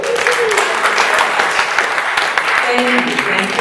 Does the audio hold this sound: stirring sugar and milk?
no